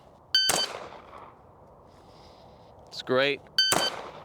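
Pistol shots fired outdoors during a target transition drill: two loud, sharp reports in quick succession, a brief pause in which a voice speaks, then another fast pair of close, ringing shots.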